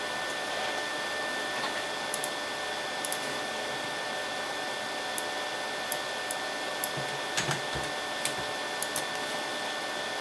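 A RigidBot printer fitted with a 405nm laser cutter attachment runs while cutting through paper, producing a steady whirring fan-like drone with faint intermittent clicks and ticks throughout.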